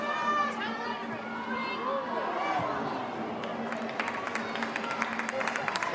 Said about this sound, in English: you can hear the crowd, can't you, just urging this side on